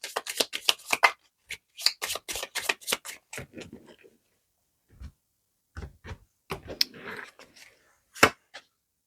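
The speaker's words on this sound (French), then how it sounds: "J'ai senti que je devais encore battre le jeu" Tarot cards shuffled by hand in bursts of crisp riffles and flutters, loud and close, with short pauses between runs and a few sharp taps.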